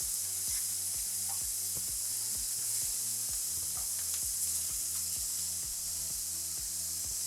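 Bacon frying on a smoky hot grill for a dirty burger, a steady close broadband sizzle and hiss running throughout with no one talking.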